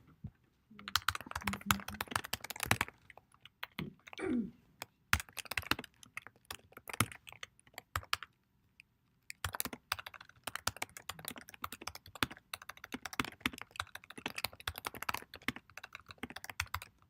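Close, crisp keystrokes on a computer keyboard come in quick irregular bursts broken by short pauses, with no one talking.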